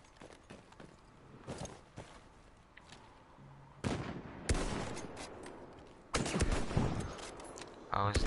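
Gunfire in the shooter game Battlefield 1, with scattered shots and two or three louder bursts toward the end, heard over game ambience and occasional footsteps.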